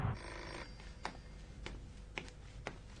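A telephone rings in an indoor room, several short bright trills repeating at a steady pace, moderately faint over low background hum, no voices.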